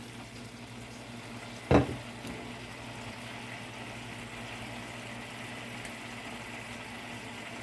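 Butter simmers in a pan as it turns into ghee, the water boiling off with a soft, steady frothy bubbling and faint sizzle; a single sharp knock sounds briefly partway through.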